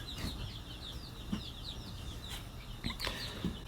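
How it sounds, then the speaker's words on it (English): Young chicks on a homestead give a run of high, thin chirps and peeps, close and fairly quiet over low background rumble, with a few soft knocks and no talking. "let me give you guys an update on the chicks here really quick"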